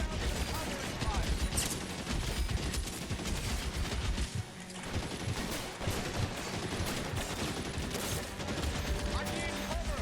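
Sustained covering gunfire in a firefight, a dense steady barrage of rapid bursts and shots running continuously, with shouting voices mixed into the din.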